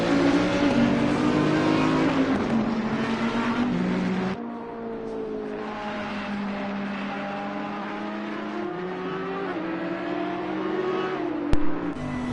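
GT3 race cars, a Bentley and an Audi, scream down the start-finish straight toward the Andretti hairpin at Laguna Seca in a sim racing game, loud sustained engine whine with rising and falling pitch and a brief shift of gear partway.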